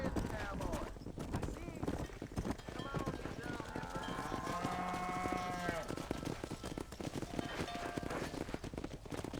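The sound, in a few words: herded cattle mooing and hooves in video game Red Dead Redemption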